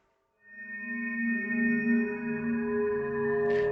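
An Aphelios weapon effect in League of Legends: a sustained, shimmering tonal chime that swells in after a brief silence and holds steady as a clean layered drone, moderately loud and alone.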